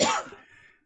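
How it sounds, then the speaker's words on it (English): A single short, husky cough from a man, close and fairly loud, fading out within a second with no talk. "He's coughing now."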